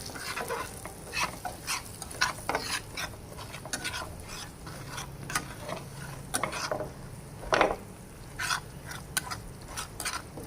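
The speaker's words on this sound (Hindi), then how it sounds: "तो इसमें हम 3 चम्मच सूजी के डालेंगे। इसे हम अच्छे से फ्राई करेंगे।" Three spoonfuls of semolina frying in melted ghee while being stirred, a soft continuous sizzle punctuated by frequent sharp scraping taps of the spoon against the pan, close and fairly quiet, with no voices.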